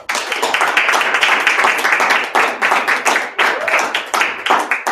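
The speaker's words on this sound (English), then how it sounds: "give Kara a big round of applause and welcome her to the stage" Loud, close, brisk clapping from an audience welcoming a woman named Kara to the stage at an evening personal-growth event. It lasts about five seconds, with short dips as the clapping swells again.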